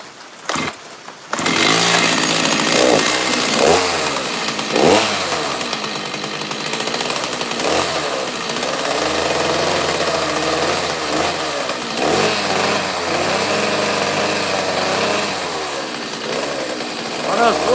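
A chainsaw runs continuously through wood during a live carving of a bear figure, its engine steady and loud with brief dips in pitch as the blade bites, while people talk over it.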